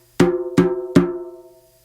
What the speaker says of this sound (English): you have the drum flat on the floor, it sounds like this